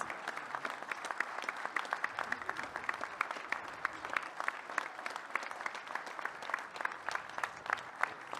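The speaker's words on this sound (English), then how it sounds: "if you're on our review team, you can come on up and get your applause." Conference audience applauding the review and security teams at a security convention's closing session, steady dense clapping sustained throughout at moderate distance, with faint voices underneath.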